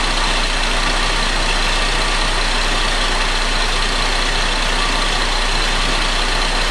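A 2011 Buick Enclave engine idles and misfires, with a steady, close, broadband mechanical drone that holds evenly throughout with no talk.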